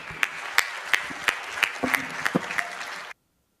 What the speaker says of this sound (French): Merci de les remercier avec moi en les applaudissant.